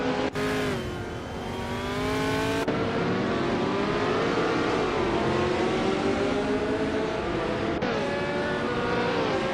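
Formula 5000 race cars on a track, engines revving loudly and continuously with rising and falling pitch as several cars run close together, one passing near around the three-second mark, with no talk.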